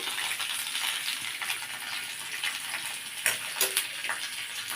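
Green peas dropped into hot oil in a pan, giving a continuous bright sizzle with a few sharper crackling bursts and small clinks partway through.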